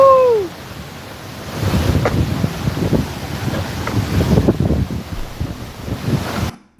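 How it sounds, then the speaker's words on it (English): Heavy flood water pouring over Rainbow Falls at Havasupai, a loud steady rushing roar with wind buffeting the microphone, starting after a brief whistle-like tone and cutting off abruptly at the end. "That is a lot of water falling over Rainbow Falls."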